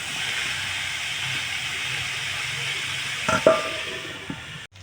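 Mushrooms frying in a little oil in a pan for a mushroom and potato fry, giving a steady close sizzle and hiss throughout, with a brief clatter of stirring near the end.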